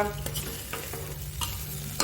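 Pulav tempering with peanuts, jaggery and spices being stirred in a pan, a soft sizzle running beneath a few scraping strokes of the spoon, close and fairly quiet.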